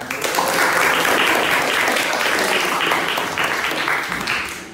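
Applause in a classroom: a steady patter of many hands clapping together for several seconds, fairly close, then tapering off at the end.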